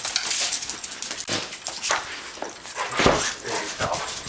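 Dogs whimper and yip in short bursts in a backyard in snow, with scattered rustling and splashing footsteps through slush nearby.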